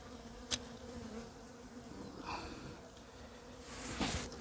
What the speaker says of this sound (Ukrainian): бджоли зараз будуть шукати. І нападають вже на той вулик, на цей, на цей